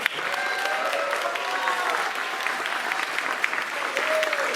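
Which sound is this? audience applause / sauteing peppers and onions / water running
audience applause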